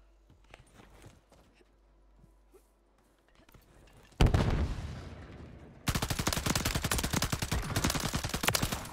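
Gunfire from a gun in Call of Duty Warzone: faint scattered shots early, then a loud burst and sustained rapid automatic fire that grows denser toward the end.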